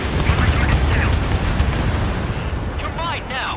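Missile launch and explosion in the jet combat game Ace Combat 7: Skies Unknown, a loud roaring blast with rumbling debris under jet noise, with radio chatter and warning tones layered on top.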